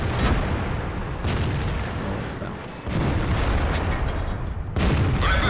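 Heavy cannon blasts and impacts around an IS-6 tank in a tank battle game, several deep booming shots spaced a second or two apart over a constant rumbling battle background.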